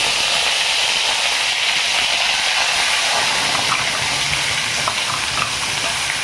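Cumin and curry leaves sizzle in hot oil while cooking a village-style green moong dal curry, a loud, steady, close hiss and crackle throughout without speech.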